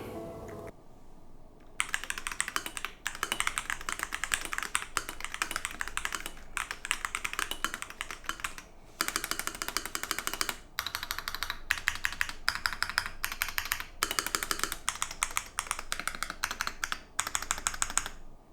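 Steady, rapid typing on an anime-themed mechanical keyboard with RGB lighting and rubber parts, dense clacky keystrokes running almost continuously at close range with only brief pauses.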